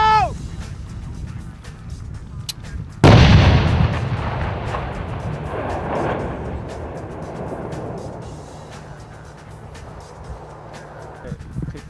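A single heavy military engineering explosive charge booms suddenly, followed by a long rumbling, crackling decay that fades slowly across the open air.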